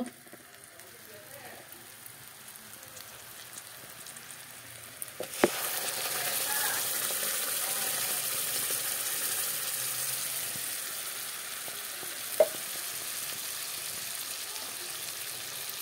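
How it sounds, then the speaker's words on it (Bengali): A ground spice paste goes into frying onions in a pan: quiet frying at first, then a sudden loud hissing sizzle that holds steady, broken by a couple of sharp clanks. "দেখো মিক্সিতে করা মশলাগুলো এখন ঢেলে দেব।"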